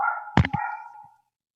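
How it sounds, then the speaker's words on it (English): A dog gives two quick, close barks over a held whining tone that fades out after about a second, leaving silence. "It must be Emmo's dog"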